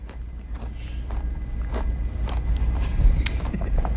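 A chocolate-covered pretzel is bitten and chewed on a TV news set, giving a run of crisp, close crunches spread across a few seconds over a low background hum.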